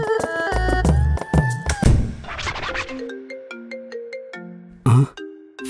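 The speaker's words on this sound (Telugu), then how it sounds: "ఫోన్ కస్టమర్ అయి ఉంటాడు," A phone ringtone plays a bright melodic tune of stepped electronic notes, loud and close, mixed with clattering thumps and brief kitchen scrapes at the start of a busy home food business scene.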